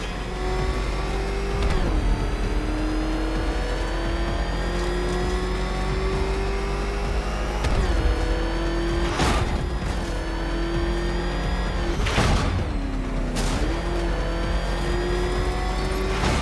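A car engine in a Batman video game revs hard and steadily, climbing in pitch and dropping sharply at several gear shifts, with a few whooshing passes over about sixteen seconds.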